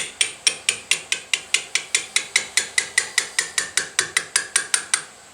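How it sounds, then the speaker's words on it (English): Light, evenly spaced metal taps work a corroded piston out of the bore of a Chevy brake wheel cylinder, about two dozen crisp clicks in a steady rhythm, close and clear. "I'm just giving it light taps."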